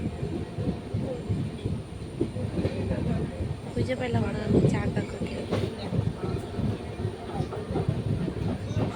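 A moving train rumbles and rattles steadily inside a crowded ladies' compartment, with someone talking close over the continuous clatter.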